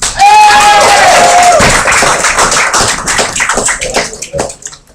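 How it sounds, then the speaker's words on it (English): Loud applause from an open mic audience, dense clapping with a few whistles and crowd noise at the start, thinning out toward the end. "Welcome to the stage with a warm round of applause, Darian Augustine."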